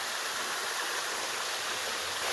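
Waterfall in the Blue Mountains on a hot summer's day, a steady, even rush of falling water that carries on unchanged from start to finish, moderately loud with no voices.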